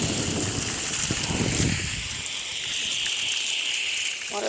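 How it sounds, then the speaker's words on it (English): Water gushes steadily from a hose onto freshly added garden soil outdoors, a close, continuous hiss and splash that holds at an even level throughout. "I'm going to wet this soil down here because I just put this new soil in."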